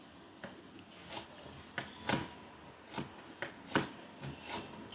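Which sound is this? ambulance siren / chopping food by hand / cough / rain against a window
chopping food by hand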